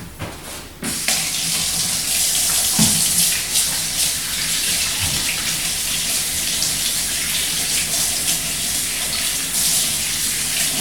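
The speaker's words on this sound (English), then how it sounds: "Alright, I'll rinse my hands one more time." Hands rinsed under a running kitchen tap: a steady, loud, close rush of water that starts abruptly after a brief quiet moment and continues unbroken, with faint splashes and no talking.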